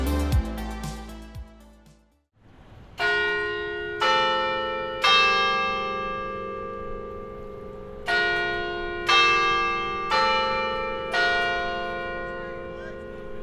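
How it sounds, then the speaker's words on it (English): Carillon bells in the Albritton Bell Tower on a university campus ring out a melody, with struck tones at steady intervals, each ringing on and decaying into the next, loud and clear with no talk. "A variation of that familiar bell melody plays every 15 minutes on campus."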